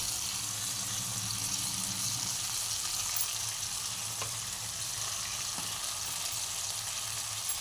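Steady, soft sizzling of raw banana frying in a pan, a constant hiss with a few faint clinks, quiet and uninterrupted.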